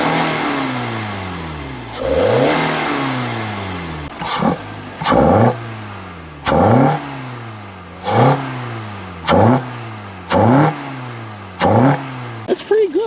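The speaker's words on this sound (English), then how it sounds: "So let's give that a rev." A 2.4-liter Kia Forte fitted with an Injen air intake is revved repeatedly from idle. There are about eight sharp throttle blips, each rising and then falling back, loud and close, with no talking.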